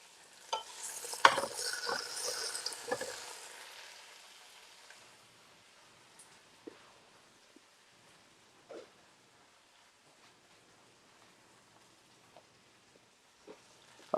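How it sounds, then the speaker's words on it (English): Food is stirred around in a hot pan, with a few seconds of scraping and soft sizzling up close, then only faint, scattered clicks and taps in near quiet. "I'm going to stir this around."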